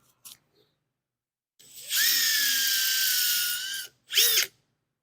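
Cordless drill spinning a pencil sharpener bit, a high whine that winds up and holds for about two seconds, then a second short burst, close and clear with no talk.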